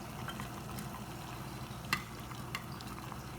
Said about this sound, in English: I have a little rubber spatula to mix it around.